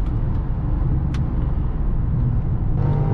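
BMW X5 E53 with the 4.4i V8 pulling at full throttle and downshifting, a steady loud engine drone and road roar filling the whole stretch without a break.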